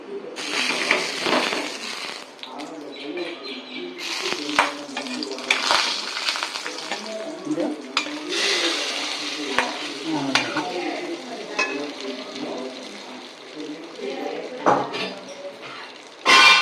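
Kuzhambu vadam frying in a pan makes loud, continuous close sizzling and crackling, with stirring and occasional scrapes throughout.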